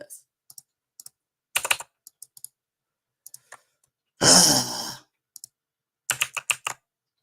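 Close computer keyboard typing in short, sparse bursts of clicks with quiet gaps, a single loud breath or sigh near the middle and a final quick flurry of keys.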